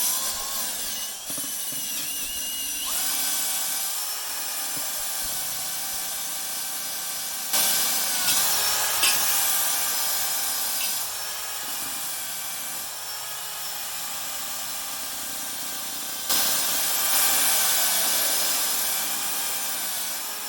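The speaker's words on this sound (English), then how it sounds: "I'm gonna start off trying to use a drill." A power drill with a wire brush whines steadily, grinding and scraping rust off a metal Kubota garden tractor wheel rim, rising in intensity in a few bursts across the clip.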